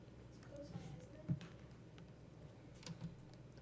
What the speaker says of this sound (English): we're just typing that in